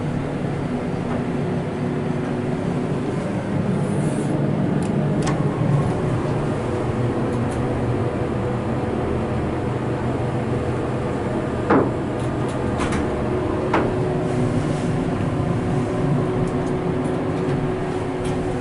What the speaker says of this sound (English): We'll shut the door and start the motor despite the fan being on.